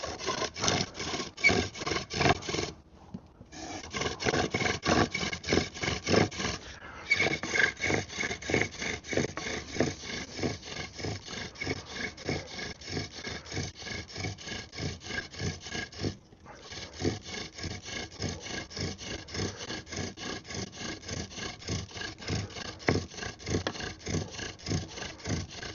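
A long bow drill spindle spins on a cedar fence board, making rapid, steady back-and-forth wooden rubbing strokes with a rasping rhythm, close and continuous, with a few brief pauses.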